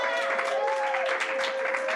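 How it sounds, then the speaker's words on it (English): Brief audience applause at a poetry festival literary showcase, a soft, steady wash of clapping from a seated crowd, fairly distant and uniform, with a speaking voice over it. "Round of applause."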